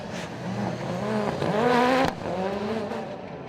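Rallycross race cars at Mondello Park in round four of the 2017 British Rallycross Championship, engines roaring loud and close as a car brakes late and slides sideways into the first turn, revs rising and falling in continuous surges.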